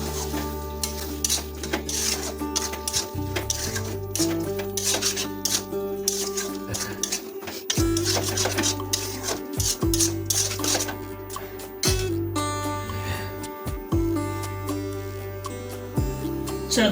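Gobindobhog rice and masoor dal are stir-fried in a wok over a low flame, with repeated scraping and rubbing strokes recurring every couple of seconds over a steady tonal hum.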